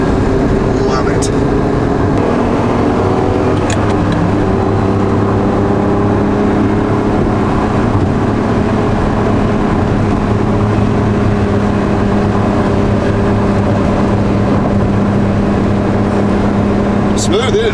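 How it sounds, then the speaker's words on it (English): A 1988.5 Ferrari Testarossa with a 12-cylinder engine runs at a smooth, steady hum for the whole stretch, loud and close, with a faint voice underneath. "Just nothing like the sound of a 12-cylinder Ferrari."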